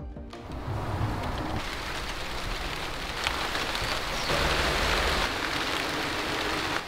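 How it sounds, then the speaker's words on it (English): Steady rain shower on a hiking trail in Hawaii, a dense, continuous patter of drops on surfaces and foliage that stays loud and even throughout, with no voices. "we got caught in a rain shower on our way back down"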